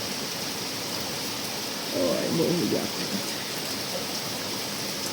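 Steady rain hisses down outside a house, a dense even wash of noise throughout, while someone briefly speaks over it partway through.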